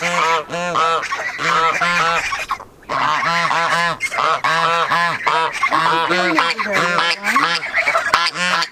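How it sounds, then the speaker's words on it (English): Farm ducks and geese, including a mother duck, honk and quack in a loud, dense, continuous chorus close by, calls overlapping with barely a pause. "we've got a mama duck back there"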